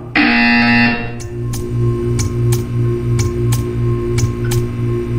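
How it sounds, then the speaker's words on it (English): A loud electronic alarm tone blares for about a second in the Portal video game, followed by a steady hum with repeated sharp ticking clicks at a regular pace. "You will hear a buzzer."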